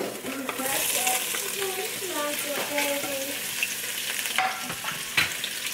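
Tofu frying in a pan with added oil and a little sesame oil during chicken Pad Thai cooking, a continuous sizzle with stirring clinks and scrapes and a few sharp taps near the end.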